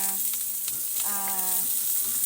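Garlic and onion fry in a hot pan, a constant close sizzle with light stirring, while thin tonal sounds come and go in the background.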